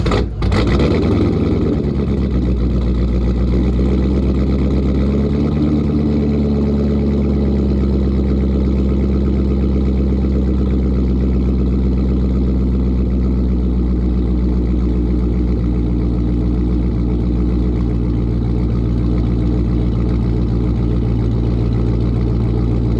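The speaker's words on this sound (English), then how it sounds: "we are going to drive our Corvette" A Chevrolet Corvette C5 with an SRT transmission and differential, mostly stock, drives along with a loud, steady low engine drone that swells briefly early on and then holds constant throughout.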